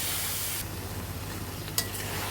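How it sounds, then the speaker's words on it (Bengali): Taro leaves stirred in a pan with ground cumin and ginger paste, cooked without onion or garlic: a steady soft sizzle with one sharp spatula scrape near the end, no voices. "এখন সব উপকরণ একসাথে অনবরত নেড়ে চেড়ে নামিয়ে নিতে হবে।"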